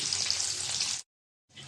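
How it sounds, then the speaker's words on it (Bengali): Onion and green chilli frying lightly in oil in a wok, a steady bright sizzle close up that stops abruptly, then resumes briefly after a short silence. "পেঁয়াজটা একটু হালকা ভেজে নেব।"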